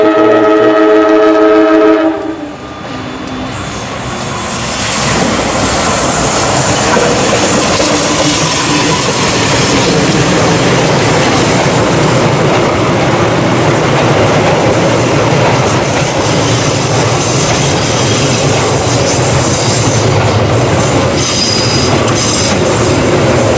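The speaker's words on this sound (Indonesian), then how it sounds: "Kereta api Sawunggali" The Sawunggali passenger train from Pasar Senen roars past at close range, wheels clattering and rumbling continuously after a brief horn-like tone at the start.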